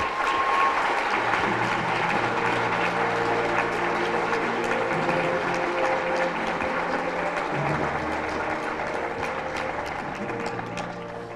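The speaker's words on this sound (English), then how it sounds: "So all the students and families in the crowd, please join me in applauding Miss Patty Meath and thank her for her work." A school awards event audience of students and families claps steadily and loudly for the whole stretch. It is a dense, continuous ovation from a large room that fades slightly toward the end.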